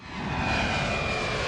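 Airplane flying past as a documentary sound effect, a broad roaring engine drone that swells in over the first moment then holds loud and steady.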